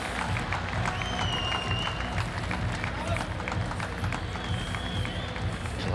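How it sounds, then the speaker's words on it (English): Cricket crowd in a Lanka Premier League stadium rising to applaud a batsman, a steady wash of clapping and cheering that holds loud and dense throughout, with broadcast noise mixed in. "There's the crowd rising to celebrate and congratulate one of the world's greats."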